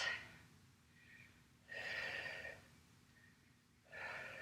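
Slow, deep breaths taken while holding a yoga pose: two clear, airy exhalations through the nose about two seconds apart, with a softer breath at the start, close and fairly quiet with no talk.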